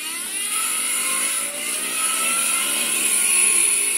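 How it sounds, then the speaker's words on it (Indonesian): A wound-up vintage tin toy boat from the 1970s or 80s gives off a steady, whirring mechanical drone that builds slightly in loudness and sounds close, with no talking. "Ini kita tinggal putar, ada suara seperti kapal nih"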